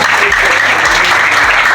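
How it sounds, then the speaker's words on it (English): Loud, dense applause from a school audience at Project SMART at GSS Azubie fills the clip, a steady wash of many hands clapping together with no pauses. "Please, a round of applause for her."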